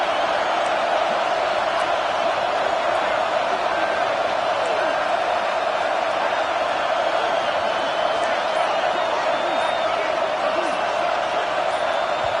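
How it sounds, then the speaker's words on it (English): A packed football stadium crowd roars on a third down play against the Michigan defense, a steady, loud wall of crowd noise that never lets up, with a commentator talking over it. "Big noise, big house, trying to rile up this Michigan defense on third down."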